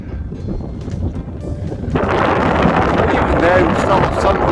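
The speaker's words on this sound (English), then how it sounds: "As you can hear, it's quite windy" Strong wind buffets the microphone on the overcast summit of Ben Wyvis near Inverness, starting as a steady rush and then becoming a louder, broadband roar.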